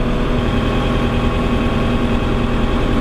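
A LOVOL M1104 tractor engine runs steadily at about 1200 rpm, heard from inside the cab as a loud, continuous low drone with an even idle-like throb and no variation.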